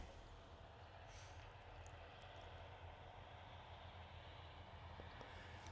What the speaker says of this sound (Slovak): to je nejaký traktor